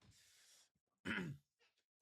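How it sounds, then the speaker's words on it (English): A single short, gruff throat clearing, close and quiet, preceded by a soft breath and followed by faint small noises. "Let me clear my throat before I say this"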